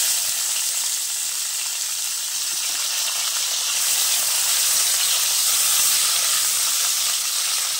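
Bitter gourd (karela) frying in hot oil, giving a loud, steady, close hiss of sizzling that swells a little and never lets up.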